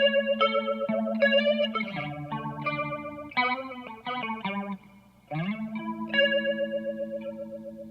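An electric guitar on the bridge pickup played through a Boss PH2 phaser pedal in mode 1, a melodic indie line of picked notes and chords with a warbly, swirling sweep, moderately loud and alone without talk.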